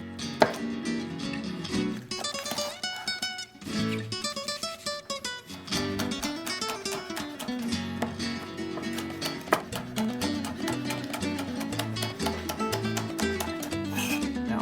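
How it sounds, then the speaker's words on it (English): Quick knife strokes slice through chilies on a cutting board, a steady run of crisp chops set under continuous background music. "The slicing is done."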